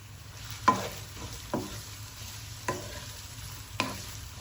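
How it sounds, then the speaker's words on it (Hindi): Onions frying in a pan, a soft continuous sizzle broken by four distinct scraping strokes of a spoon stirring at a slow, even pace. "अब मैं प्याज डाल दूंगी। प्याज को आपने ज़्यादा नहीं पकाना, बस इनका कच्चापन ख़त्म करेंगे"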